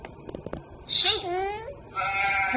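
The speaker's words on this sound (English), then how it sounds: "Sheep" A child's toy sheep gives a single drawn-out electronic bleat followed by a second shorter bleat, preceded by a few soft taps and quiet child chatter.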